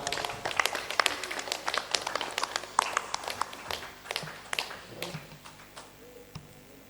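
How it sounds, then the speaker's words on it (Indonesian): A school group at an Islamic boarding school creative competition gets a round of applause, with many quick, close claps that thin out toward the end. "Tepuk tangan dulu kelompok"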